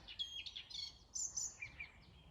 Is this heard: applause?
no